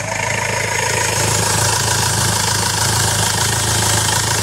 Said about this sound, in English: you listen to the engine, it's revving up and down, doesn't sound like it's got an even tick over